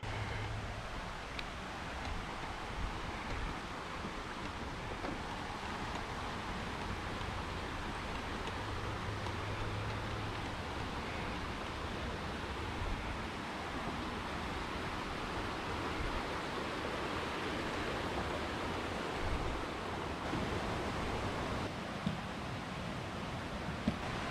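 Steady broadband water rush of a small country stream flowing continuously under a little bridge on the Appalachian Trail, fairly close, with no voices over it.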